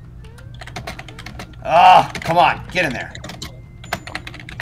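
Fast, vigorous typing on a computer keyboard during a video game session: dense, rapid clicks run throughout, with a voice speaking over them partway through.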